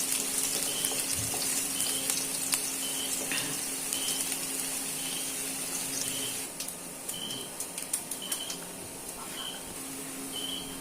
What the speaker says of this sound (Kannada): ಬೆಳ್ಳುಳ್ಳಿ ಚೆನ್ನಾಗಿ ಫ್ರೈ ಆಗಬೇಕು